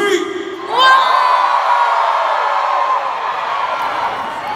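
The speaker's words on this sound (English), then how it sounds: "Can I just get a massive Abu Dhabi scream?" A large arena crowd at a concert in Abu Dhabi erupts into a sustained, loud scream after a brief vocal lead-in, the roar holding steady for several seconds.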